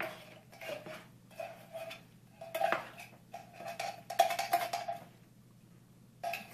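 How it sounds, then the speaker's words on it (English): A metal spoon scraping and knocking against a container while coaxing out the last of some tomato puree, a series of irregular clinks and scrapes at close range. "Sometimes using a spoon to help spoon the rest of it out helps"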